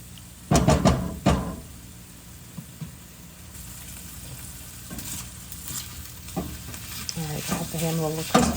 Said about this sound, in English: I'm heating up the ham in there